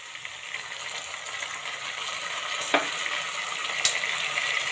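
Vegetables sizzle and fry steadily in a pan as two spoonfuls of soy sauce go in for a macaroni dish, a broadband hiss with a couple of sharp clinks of a spoon against the pan.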